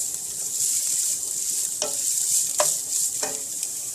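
Garlic and carrots sizzle steadily in a pan over lowered heat, with a few distinct scrapes of a utensil stirring through the hiss, close and continuous.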